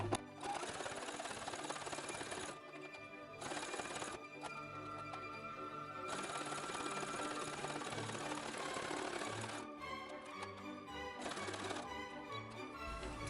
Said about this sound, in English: we are going to put a zigzag stitch to overlock the edge